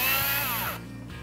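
A power driver spins out T20 screws above the headlight of a 2012-2015 BMW 3 Series F30 sedan, a loud continuous whirring motor with a pitch that slides downward before tapering off.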